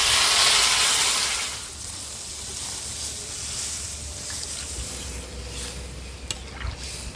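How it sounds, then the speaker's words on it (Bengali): Water poured into a cooking pot of fried spiced potato hits hot oil with a loud hissing rush at first, then settles into a softer bubbling sizzle with a couple of light knocks. "এবার জল দিয়ে দেবো।"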